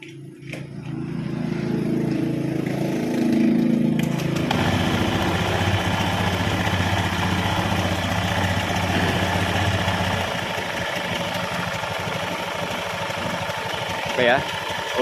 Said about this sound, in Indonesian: Oke, untuk mesinnya saya nyalakan dulu.